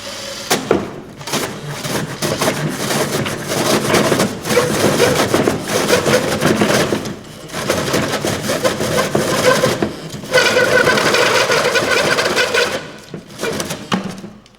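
A power drill with a hole saw grinds through ceiling tile in several bursts, buzzing and rasping with brief pauses between cuts, close by.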